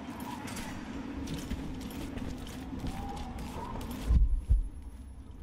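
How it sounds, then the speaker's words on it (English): In the stealth game Styx: Master of Shadows, a low heartbeat warning thumps as an enemy nearly detects the player, two heavy pulses standing out near the end over quiet game ambience. "the heartbeat sounds when you almost get detected."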